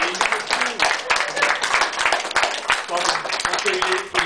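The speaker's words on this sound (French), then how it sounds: "on peut l'applaudir" Restaurant audience applauding its owner, a dense and steady burst of clapping from many hands that carries on evenly throughout, close and loud, with no talk over it.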